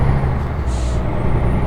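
Truck air brake in a driving simulator game releases pressurized air in a loud, sharp hiss, over a continuous low engine rumble that runs throughout.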